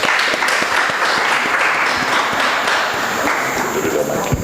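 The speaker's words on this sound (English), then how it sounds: "With a resounding round of applause, let's welcome Mr. Samuel Amagayibo to join." An audience gives a sustained round of applause welcoming a speaker onto a live broadcast, steady dense clapping filling the whole stretch.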